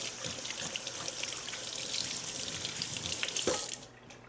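Water runs steadily from a kitchen tap as hands are wetted under it, a close, even rushing splash that cuts off near the end.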